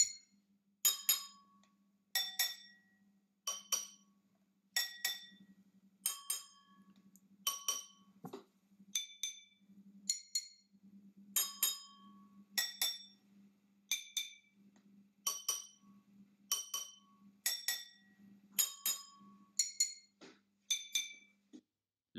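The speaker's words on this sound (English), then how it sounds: "I spy a large gin glass there, which gives a particularly good sound." A large gin glass is struck again and again, giving bright ringing clinks at a steady rhythm with a low hum beneath, no talking.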